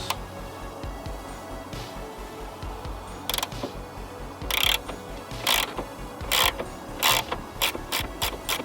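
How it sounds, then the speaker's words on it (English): A 13mm socket ratchet loosening strut bearing nuts on a Ford Fiesta ST during a strut brace install, with rapid clicking ratchet bursts repeating in short runs, close and clear over a faint background hum. "now we need to remove the 3 strut retaining bearing nuts on either side. So they require a 13mm socket."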